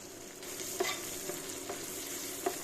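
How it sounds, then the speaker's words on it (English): Saltfish, onions, garlic, scotch bonnet, thyme and scallion sautéing for ackee and saltfish, a steady low sizzle with a few sharp clinks of a spoon against the pan at irregular intervals, close and moderately quiet. "Adding the dry ingredients first gives us a proper saute for maximum flavor."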